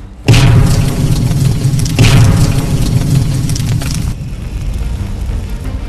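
A landmine blast in a Nepali action film sets off a loud, deep boom with a sudden onset, followed by a second heavy burst and a long rumbling roar that fades and drops off near the end.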